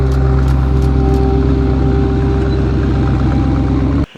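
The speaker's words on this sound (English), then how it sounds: "Nice high speed racing car, guys." A racing car engine runs steadily and loudly at close range, a constant mechanical drone with a low throbbing pulse that cuts off abruptly at the very end.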